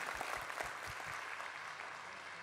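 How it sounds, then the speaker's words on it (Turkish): Audience applause in a TV studio, a faint, steady patter of many hands clapping that holds through the short stretch without any talk. "Bir kez daha lütfen Ayten Alpman'a gitsin bu güzel alkışlar"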